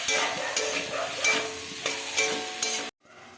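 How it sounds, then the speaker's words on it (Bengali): Fried potatoes being stir-fried with spices and Kashmiri chilli powder in a pan, a steady close sizzle with repeated scraping stirs, ending abruptly in near quiet. "কষিয়ে নেবো, মশলার সঙ্গে ভালো করে কষিয়ে নেবো"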